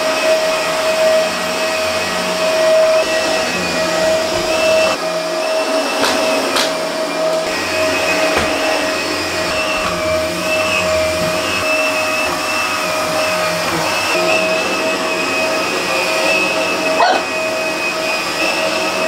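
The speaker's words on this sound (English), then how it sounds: "let's see what the Hoover gets." A Hoover vacuum cleaner picking up pug hair runs continuously and loudly for the whole stretch, a steady motor whine with brief scraping bumps and small pitch changes as it moves.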